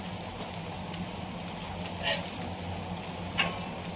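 Bombay duck (bombil) fish fries in a pan with a steady, soft sizzle and a few faint clinks and scrapes, heard fairly quietly and continuously.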